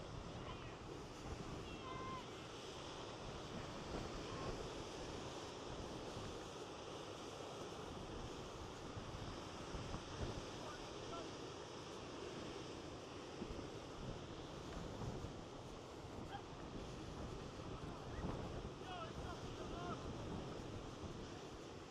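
Strong wind gusting along the Norfolk coast path between Happisburgh and Mundesley, roaring steadily into the microphone with surf rumbling underneath, loud and continuous throughout.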